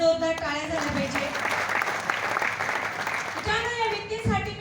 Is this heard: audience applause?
yes